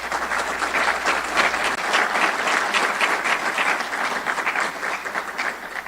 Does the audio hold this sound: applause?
yes